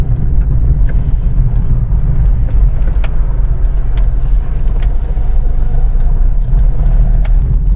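A car drives along at night with a loud, steady low road rumble and engine drone heard from inside the cabin, broken by faint rattles and small ticks, with no voices.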